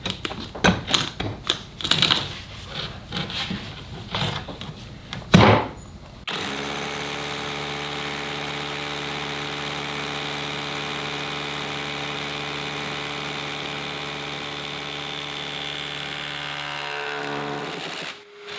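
A Festool KHC 18 cordless rotary hammer pounds into concrete with rapid, irregular hammering bursts for several seconds, then gives way to a steady, droning motor hum that runs on until it stops.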